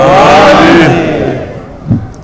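A large crowd at a PDM political rally in Hazara Town roars a loud, unified slogan response. The burst of massed voices fades over about two seconds.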